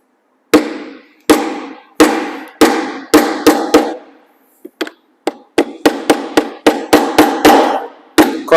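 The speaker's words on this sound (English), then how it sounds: "I'm just going to lightly hammer it in." Nails with V-shaped points driven into a wooden frame by hammer: a series of about fifteen sharp, loud wooden knocks, irregularly spaced, several quick taps in a row with brief pauses, close and alone without talk.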